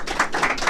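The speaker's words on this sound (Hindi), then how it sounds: "जोरदार तालियां होना चाहिए बाबू" A classroom of students claps for a student being rewarded for exam marks, a dense, close, steady burst of applause with no talk over it.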